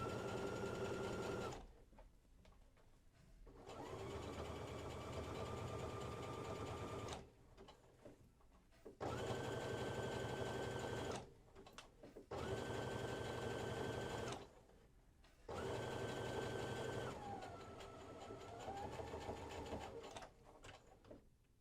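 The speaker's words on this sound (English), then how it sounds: "give her that reinforcement of the zigzag stitch" Sewing machine running zigzag stitches to reinforce a seam on a dropped-shoulder hoodie, loud, close whirring bursts of several seconds each, separated by brief pauses and quieter handling.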